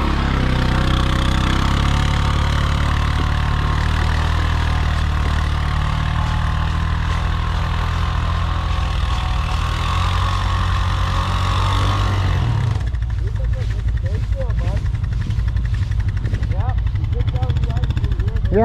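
A 2022 Can-Am Renegade X-MR 1000r ATV engine roars steadily under load on a dyno pull for about twelve seconds, then drops to a lower idle as people talk over it.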